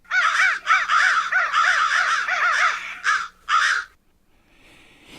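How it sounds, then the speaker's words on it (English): A dense flock of crows caws over a town, loud, overlapping harsh calls repeating in quick succession, then two separate caws before fading into quiet. "Millions of crows, including Charlie's cousins, brothers, and sisters, flew with him over the town."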